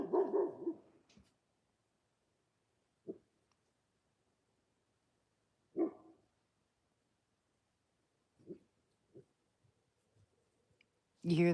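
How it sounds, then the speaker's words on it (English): Dogs barking outdoors in winter, a few separate sharp barks spaced several seconds apart at moderate distance, with a voice talking at the start and end. "You hear that bark?"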